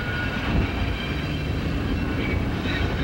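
A switcher on a branch line shoves a cut of freight cars out over a trestle, giving a steady, loud rumble of rolling wheels and rail noise throughout, with no voices.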